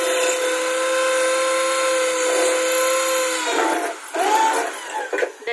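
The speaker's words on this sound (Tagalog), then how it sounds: "Ayan po, i-drill." A power drill bores into a sliding window frame, giving a steady high whine that holds, then dips and surges under load before stopping in short bursts near the end.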